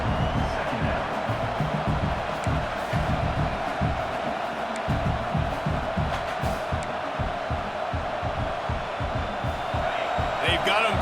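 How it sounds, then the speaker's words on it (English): Crowd at a college football game between LSU and Texas A&M roars steadily throughout a stadium, loud and sustained, with a play-by-play announcer talking over it. "this crowd trying to help keep them there"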